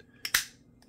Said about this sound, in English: Snaps in like that.